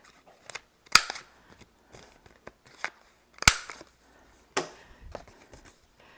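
A corner-rounder punch bites through a Whisper White cardstock layer for a card-in-a-box project, giving several sharp, close clacks spaced over a few seconds with quieter handling sounds between.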